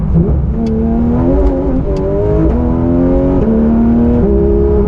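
Porsche 911 with exhaust valves open, accelerating hard in a straight line, its loud engine note rising and dropping sharply at each rapid gearshift, several shifts in quick succession.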